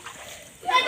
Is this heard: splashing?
yes